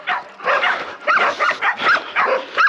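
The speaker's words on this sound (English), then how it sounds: "Got some good old dogs barking at me." Dogs bark and yip at a runner on a hill during a fasted training run, a series of sharp, fairly close barks in quick bursts with brief gaps, fairly loud.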